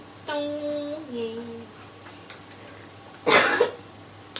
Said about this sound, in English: Cough in the elbow, guys, cough in the elbow.